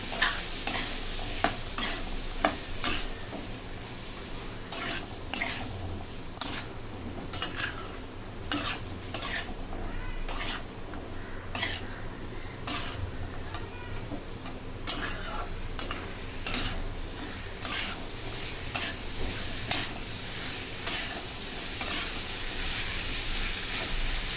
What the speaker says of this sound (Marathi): चवीप्रमाणे सर्व मिक्स करून घेतो